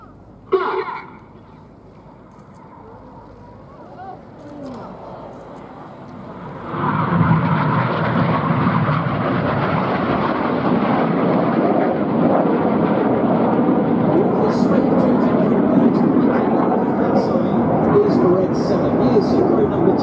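Red Arrows display jets at an air show roar past, a building, sustained engine rumble that swells after a brief clatter and stays loud and broad, heard outdoors with a crowd-side commentary voice mixed in.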